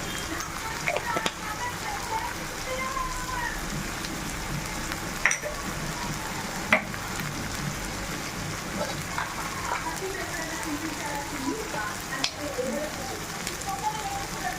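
Mutton frying in a pan with tomato and mutton masala, a steady crackling sizzle with a few sharp clinks of utensils, heard alone without talk.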